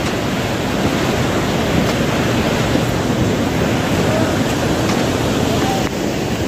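The Mandakini river rushing beneath a shaking bridge near Gaurikund on the Kedarnath trek, a loud, unbroken roar of fast water that fills the whole clip.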